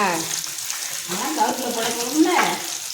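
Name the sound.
small onions sautéing in a pan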